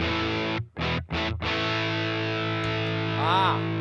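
Electric guitar played through a distortion pedal, sustained thick overdriven chords ringing with two brief choppy gaps early on, then a long held chord with a bending wobble near the end, loud and close with no voices.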